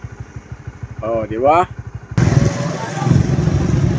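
Motorcycle engine chugging in a steady rhythm at a resort ride area, up close and under a short spoken phrase, then drowned by a sudden burst of loud rumbling noise.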